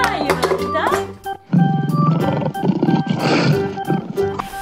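Toy lion producing recorded roars, several loud growling roars in sequence with brief pauses between them, close to the listener, mixed with a voice and other indoor sounds.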